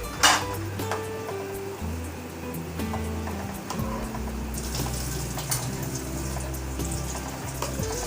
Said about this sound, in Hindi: अब मैं ये लगातार इसमें चम्मच चलाती रहूँगी